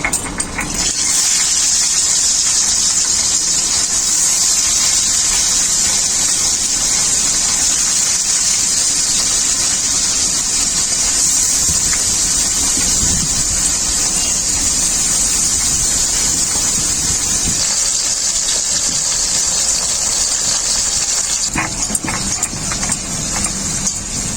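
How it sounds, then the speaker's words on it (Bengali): An electric grinder blends spice paste for a bata fish curry, giving a steady, loud, unbroken whirring roar that runs for over twenty seconds with no voices. "মশলাটা আমার খুব ভালো করে বাটা হয়ে গেছে।"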